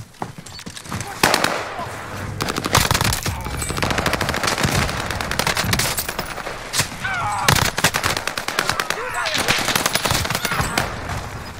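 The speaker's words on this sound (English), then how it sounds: "there's another team shooting at us." Rapid automatic gunfire from an enemy squad in Call of Duty: Warzone on the Fortune's Keep map, dense bursts and volleys running almost nonstop, close and loud, with players talking over the shooting.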